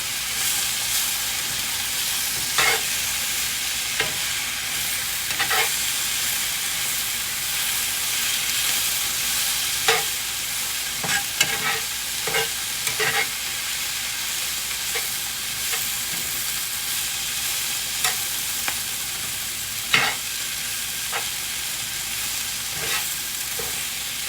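Steak and egg mixture stirred in a hot skillet, a steady sizzle and hiss with scattered scraping clicks of the utensil through the pan, heard alone at close range.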